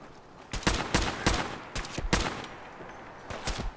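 Gunfire in the video game Fallout 4 Far Harbor: a string of loud, sharp shots in uneven bursts over a few seconds, close and punchy with no talk.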